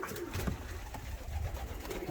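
Pigeons in a loft coo faintly amid a busy, scratchy background of rustling and shuffling, with no clear talk.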